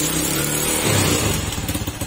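A Motorstar 125 motorcycle engine runs loud and close in a rough, continuous idle with a pulsing, throbbing rhythm.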